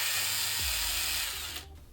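A power drill bores through a plastic bucket while building a Tusken Raider mask, giving a steady close whine for about one and a half seconds before it cuts off abruptly.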